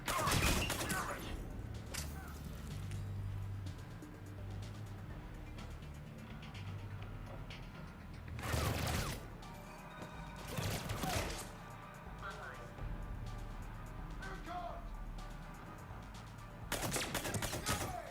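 Gunfire in Mass Effect 3, bursts of shots that come and go under a tense game soundtrack, with louder volleys in several spots across the stretch.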